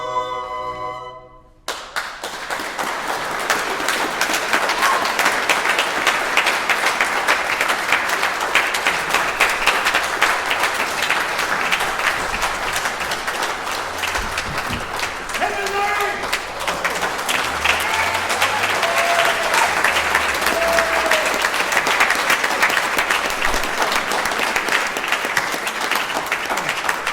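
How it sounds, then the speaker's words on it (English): Audience applause after a folk song, a sustained roar of clapping from a crowd lasting nearly half a minute, steady and loud after a final sung note fades. "Never know who deserves the most applause for that one"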